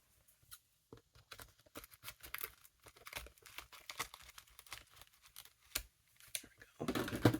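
Scissors snip through textured paper for a journal, a run of short crisp cuts and crinkles at close range, quiet and irregular, with a louder rustle of handling near the end.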